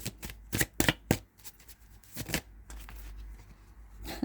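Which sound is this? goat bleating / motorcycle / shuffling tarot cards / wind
shuffling tarot cards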